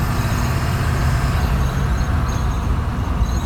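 A heavy truck with an electronically controlled transmission shifts into fourth gear with torque converter lockup, its engine drone steady and loud throughout with no clear break.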